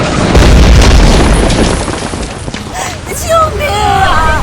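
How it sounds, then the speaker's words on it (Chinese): A huge explosion of over a hundred tonnes of liquefied petroleum gas at a dam roars loud and close as a long rumbling boom, with wind-like noise and faint cries rising near the end. "那上面是上百吨液化石油气，坠崖之后在水坝上引发爆炸"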